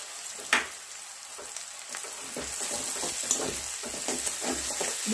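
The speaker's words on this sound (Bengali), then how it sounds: "রসুন আর পেঁয়াজটাকে একটু বেশিক্ষণ ধরে ভাজতে হবে" Garlic paste and onions fry in a pan with a dense, steady sizzle, joined by a sharp spatter early on and regular scraping stirs that grow busier toward the end.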